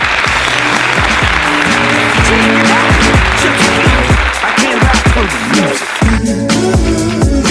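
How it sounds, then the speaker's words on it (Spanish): Loud, dense applause fills the space for the production team, a continuous roar of many clapping hands with cheering voices mixed in, sustained throughout. "un fortísimo aplauso para ellos"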